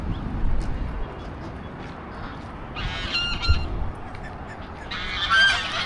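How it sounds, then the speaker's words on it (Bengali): Geese honking on a street corner in an old town in Lebanon, where ducks and geese live and bathe in splashed water. Loud, raspy honks come in bursts amid a busy background, the strongest near the middle and again near the end. "রাজহাঁস আমাকে দেখে হাও মাও করে উঠছে, দেখেন কিভাবে"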